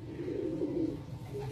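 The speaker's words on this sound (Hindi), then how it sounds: "ये कबूतर हैं पुराने लाला हंसराज वाले" Old Lala Hansraj pigeons in a loft give a brief low cooing call, soft and close, with no talk over it.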